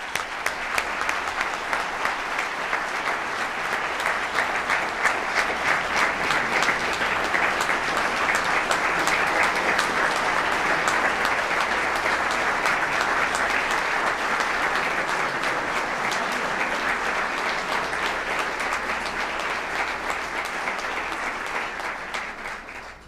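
An audience at a special city council meeting for the installation of officers applauds the outgoing council: dense, sustained clapping from a roomful of people, steady and fairly loud for over twenty seconds before tapering off at the end.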